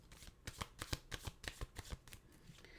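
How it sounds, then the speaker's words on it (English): Tarot cards being shuffled close up in a quick, steady riffle of crisp flicks and taps, with no talking. "Let's shuffle and cut."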